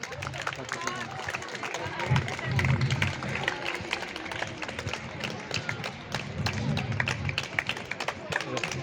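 Audience applause for medal-winning players at an award ceremony, a dense wash of many hands clapping steadily for the whole stretch, with a loud voice talking over it throughout.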